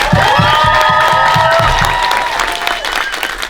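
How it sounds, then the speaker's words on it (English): An audience at a London fan anniversary event gives its guests loud applause mixed with cheers and whoops, a full, sustained roar that tapers slightly toward the end, with rhythmic clapping underneath early on. "we have one big final round of applause for our three guests"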